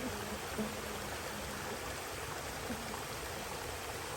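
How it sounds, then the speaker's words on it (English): Waterfall beside a forest trail, a steady broadband rush of falling water heard alone and fairly close throughout. "Another waterfall."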